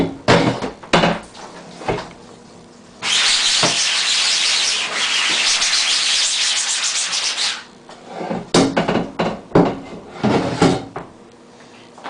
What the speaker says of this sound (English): I'm just going to put ink on one side, scrub it, flip it over and do the other side